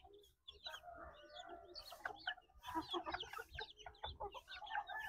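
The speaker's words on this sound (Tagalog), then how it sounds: "Magpapakain tayo ng aking mga manok." Livorno and bantam chickens in a backyard cluck and squawk close by while being fed, a busy overlapping chatter of hen calls with one hen having a cold.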